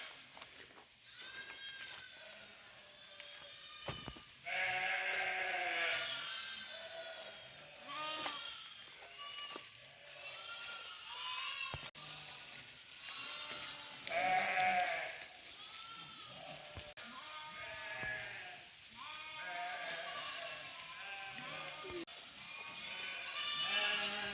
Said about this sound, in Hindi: आ गई हैं भेड़ें।